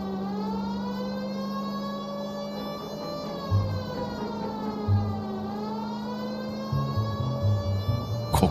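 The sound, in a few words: police car siren in video game L.A. Noire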